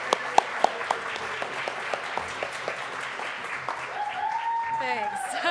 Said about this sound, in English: let's give her a round of applause for being willing to put her talents to work